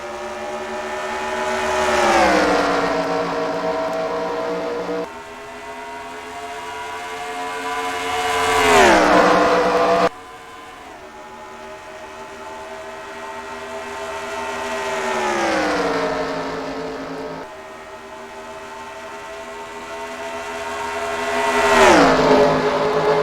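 Stock cars roar away at the green flag of the Coca-Cola Vanilla 300 at Charlotte in a racing video game, engines revving loud and sweeping past in repeated rising and falling passes with no talk.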